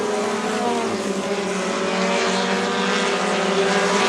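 NEMA race cars on a track on the final lap toward the finish make a loud, continuous engine roar with steady overlapping whine and no break.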